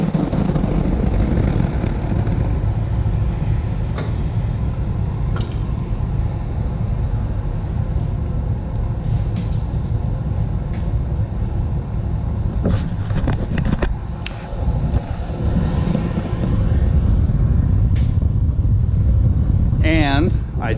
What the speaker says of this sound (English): Then I'm going to hit the fan on the blower.